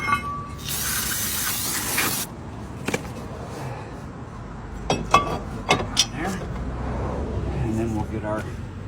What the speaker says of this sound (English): Go ahead and spray it down.